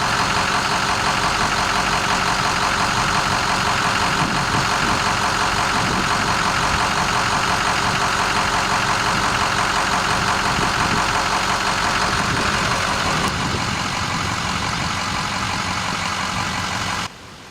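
A Ford F250 with the 6.0L engine idles roughly during an EGR valve failure, loud and close with a continuous rumbling knock for the whole stretch, easing off only at the very end.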